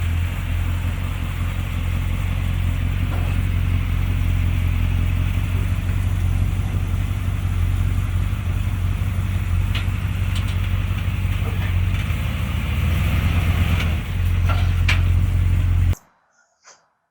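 A car engine runs steadily and loud while out on a test drive, with a continuous low rumble and road noise that holds for about sixteen seconds before cutting off abruptly to near silence.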